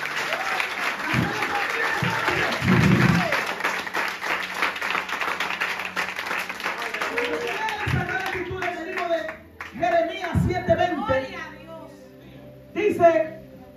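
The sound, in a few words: congregation applauding in church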